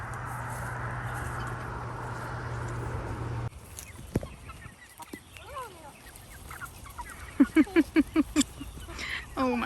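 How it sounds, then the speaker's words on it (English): Chickens cluck and squawk in short bursts nearby, with a steady hum at first and a rapid series of clucks toward the end. "I think the chickens think we have treats."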